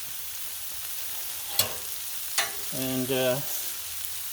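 Smash burger patties sizzle steadily on a very hot Blackstone griddle, giving a continuous frying hiss with a couple of sharp scrapes. A brief voice comes in near the end.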